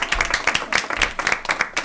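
Board members and attendees at a school district board meeting applaud, a short round of moderate, fairly sparse clapping in an indoor meeting room.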